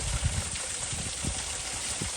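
Steady broadband rush of flowing water, a small waterfall on the Ouachita Trail heard up close with a low gurgling churn underneath, continuous and fairly quiet.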